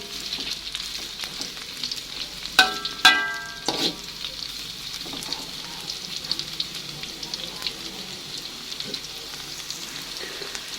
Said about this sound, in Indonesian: ini tempenya saya goreng setengah dulu ya teman-teman